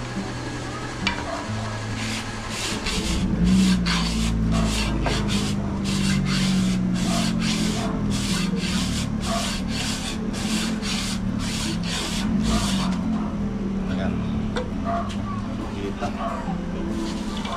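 Sandpaper rubs back and forth in quick, regular strokes up close, a gritty scraping rhythm that runs throughout while people talk over it.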